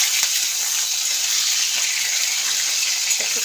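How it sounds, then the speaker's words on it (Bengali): Cauliflower frying in oil in a pan for a spiced vegetarian khichuri, a steady close sizzle with soft crackles and no talk. "ফুলকপিটাও ভাজবো আমি"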